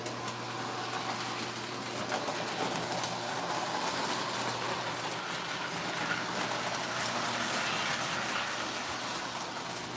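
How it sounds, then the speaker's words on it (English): Model railroad layout with a crossing gate operating, giving a steady mechanical hum and low whir throughout at moderate level, with no talking. "We'll turn on the crossing gate for one."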